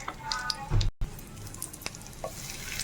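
Dried red chillies, cumin and mustard seeds crackle and sizzle in hot oil, with a loud clatter of something dropping in near the start followed by a steady, moderately loud frying hiss and occasional pops.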